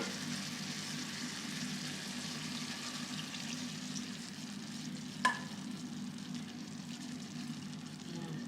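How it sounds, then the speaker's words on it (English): Apples being stirred into salted caramel sauce for a crumble, a soft, steady sticky churning and faint sizzle heard close, with one brief sharp clink of a utensil partway through. "stir it until it coats those apples really well"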